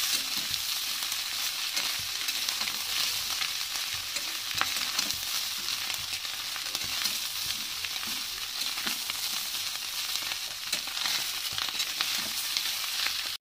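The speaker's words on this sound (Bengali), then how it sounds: "উল্টিয়ে পাল্টিয়ে একটু ভালো করে টমেটোটাও মাছের সঙ্গে ভেজে নিলাম" Tomato and fish fry together in a pan, giving a continuous close sizzle and crackle with stirring and turning scrapes throughout and no speech.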